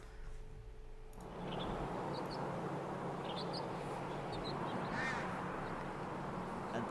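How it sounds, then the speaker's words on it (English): A group of crows mobs a bald eagle outdoors, giving harsh overlapping caws and attack cries that rise after a quiet opening and continue steadily at a moderate distance, with no voices heard. "This is crows mobbing a bald eagle, team."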